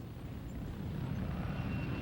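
Spitfire and Hurricane fighter planes of the Second World War flying, heard as a steady, fairly faint propeller-engine drone with a low rumble and no talk.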